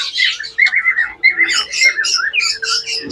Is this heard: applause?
no